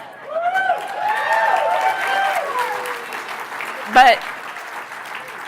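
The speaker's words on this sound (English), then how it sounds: "who knew that would get applause?" An audience at a spring dinner and auction gives warm applause mixed with a few cheers and laughs. It rises and falls for several seconds before a speaker's voice cuts in over the fading clapping.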